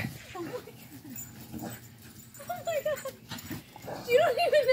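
A dog snorts and whimpers in short, rising whines close by, the cries growing louder toward the end, while a person talks over it.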